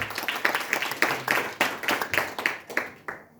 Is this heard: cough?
no